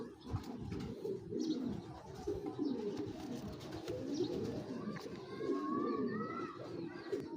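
A large male Hemar pigeon and other pigeons coo continuously in low, rolling phrases, close and clear. Faint chirps and a brief higher call show up near the end.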